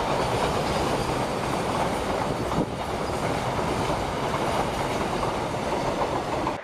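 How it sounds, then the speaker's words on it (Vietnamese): A container train runs along a railway, a loud, continuous rumble with rhythmic clickety-clack of wheels on the rails, passing close by without letup. "Container train."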